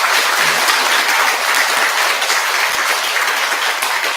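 Sustained applause from a large audience at a Buddhist temple service celebrating Buddha's Birthday, dense steady clapping filling the hall at even loudness throughout, with no voices breaking through.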